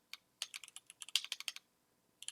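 Quick, light clicking of keys on a computer keyboard, a short burst of irregular taps followed by a pause and two final strokes, close and fairly quiet.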